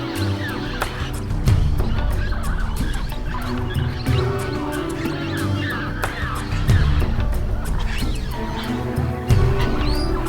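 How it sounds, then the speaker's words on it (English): At dawn, blue-headed parrots and other birds arrive in a tropical forest, calling in a dense mix of chirps, squawks and sharp tweets over a constant low ambient rumble. "It's the Heelys and the blue-headed parrots."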